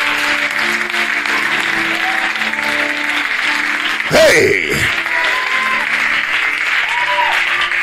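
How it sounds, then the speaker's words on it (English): A church congregation clapping hands steadily during a sermon, a loud continuous wash of claps with a preacher's voice and sustained tones running underneath, and a brief shout in the middle. "Clap your hands, all your people."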